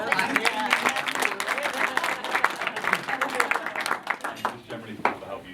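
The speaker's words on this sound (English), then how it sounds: "I think that deserves a bit of a clap" Guests at a wedding break into warm applause, a dense patter of many hands clapping in a room that fades toward the end, with voices mixed in underneath.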